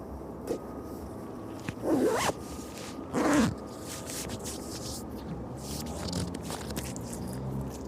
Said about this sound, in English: Just going to zip my coat up